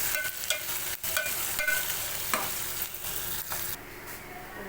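Onions and green chillies stirred in a frying pan for a ridge gourd curry: a continuous close sizzle with several distinct scraping and tapping strokes from the spoon, quieter hiss at the close.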